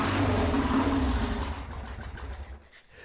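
Rebuilt Triumph T120 chopper motorcycle engine running just after a kick start, a loud, close mechanical chatter and rumble that fades and thins out over the last second.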